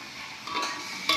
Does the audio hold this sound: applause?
no